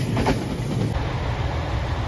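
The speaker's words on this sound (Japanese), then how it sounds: "特急石槌10号高松駅、白いアンパンマン列車です" The white Anpanman limited express Ishizuchi passes close by as a loud, dense rail rumble with wheel clatter, filling the short stretch without voices.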